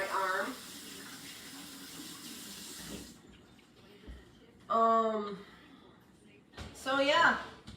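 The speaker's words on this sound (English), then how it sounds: "So let me get myself all washed up here." Water runs steadily from a kitchen tap while hands are washed during cooking, a soft continuous hiss that stops partway, with a person speaking over it.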